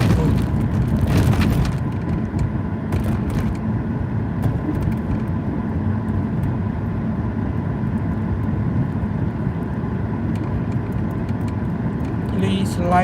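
A car drives along a road toward Chinatown, with a steady low engine and road rumble running throughout and a few brief knocks near the start.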